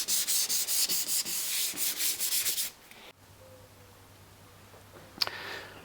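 Brisk rhythmic rubbing of a cloth or pad buffing the wood of a Singer treadle table by hand, fast and steady, then it stops, leaving a low hum and a brief light knock.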